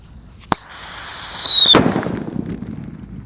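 A loud whistling Indonesian firework shrieks for about a second, then bursts with a sharp bang that fades into a crackling tail.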